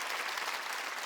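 Church congregation claps during a Wednesday worship service, a short, fairly quiet burst of even, continuous hand-clapping.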